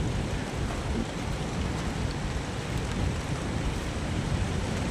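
Steady, dense hiss of rain falling at night in Thailand during the rainy season, continuous and even throughout, with no voices.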